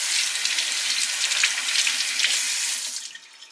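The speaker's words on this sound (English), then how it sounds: "let's rinse our hands" Hands rinsed under a running kitchen tap during Dungeness crab preparation: a steady, close rush of water that holds throughout, with faint splashing, then eases off near the end.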